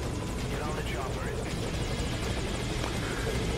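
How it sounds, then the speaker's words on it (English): A helicopter in the video game Metal Gear Solid Ground Zeroes roars close by with a steady, dense rotor chop and engine whine, filling the whole stretch, while speech runs underneath. "Get on the chopper."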